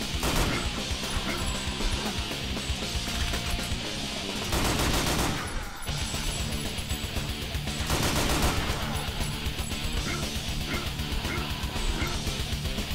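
A gun fires continuously in Painkiller: Reload, a dense, loud, steady barrage of rapid shots with two brief heavier blasts standing out, all under game sound effects and no talking.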